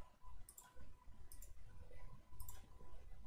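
Someone types nCr on a calculator keypad, giving three small clusters of crisp, close button clicks over a faint steady hum.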